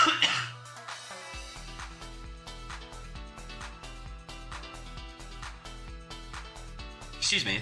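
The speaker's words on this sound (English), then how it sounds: "I don't mean to cough into the mic." A close cough at the start and another near the end, with steady beat-driven music playing in between.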